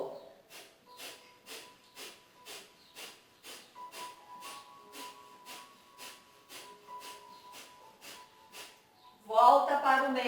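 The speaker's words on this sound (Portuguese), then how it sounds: "Respiração do fogo." Rapid rhythmic breath of fire yoga breathing, a steady train of about twenty short forceful nasal exhales, close and fairly soft, with faint background tones and a voice starting at the end.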